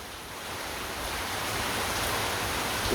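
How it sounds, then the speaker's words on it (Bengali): Early-morning rain falls in a steady broadband wash that swells slightly louder over a few seconds, even and continuous with no talk. "সাত সকালে বৃষ্টি নেমে গেছে দেখেন বৃষ্টির কি অবস্থা"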